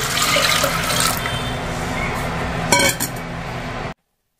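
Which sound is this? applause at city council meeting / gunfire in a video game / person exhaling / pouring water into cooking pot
pouring water into cooking pot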